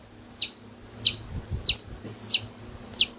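A chicken gives five evenly spaced, loud squawking calls, each a sharp rising cry, with faint low rustling and thumps between them.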